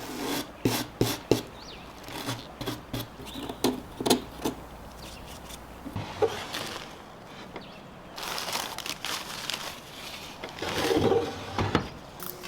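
Brass brush scrubbing paint off an antique painted wooden dresser, a run of short rasping strokes in quick bursts with brief pauses, close and moderately loud.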